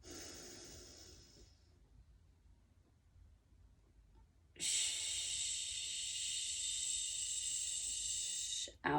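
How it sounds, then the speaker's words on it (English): A person in a mobility exercise session breathing out, then drawing a long, loud, hissing breath in through the nose at close range, lasting about four seconds. "And then breathe in through your nose."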